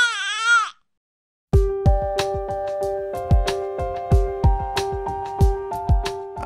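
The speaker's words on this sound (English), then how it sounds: "some baby crying in the far corner." A baby lets out a short wavering cry at the start, then falls silent. A run of bright plucked melodic notes follows, evenly paced and close.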